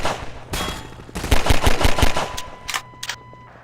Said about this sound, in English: I got a shit ass machine gun